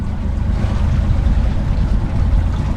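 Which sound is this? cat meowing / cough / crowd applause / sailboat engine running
sailboat engine running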